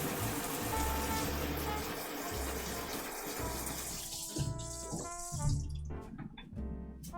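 Kitchen tap water running steadily into a sink while a whisk is rinsed, with splashing and clinks as the flow breaks up near the end.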